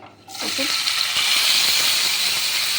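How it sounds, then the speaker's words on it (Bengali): Bitter gourd pieces tossed with their water are poured into a hot wok, bursting into a loud, steady hiss and sizzle that holds close and continuous after a brief clatter of the pour. "এইটাকে আমি পুরো কড়াইয়ের মধ্যে পুরো এই জল টল শুদ্ধই ঢেলে দেবো"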